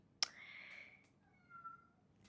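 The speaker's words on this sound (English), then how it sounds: "My cats are playing." Pet cats playing indoors: one sharp click, then a short rising chirp-like meow, followed by faint squeaky cries in an otherwise quiet room.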